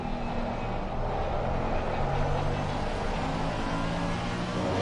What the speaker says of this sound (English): Just listen to that Mercedes, it sounds fantastic.